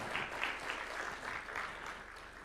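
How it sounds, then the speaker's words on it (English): Steady applause from a crowd at a conference in Nairobi, a dense clapping texture holding at an even level throughout. "Another round of applause for His Excellency"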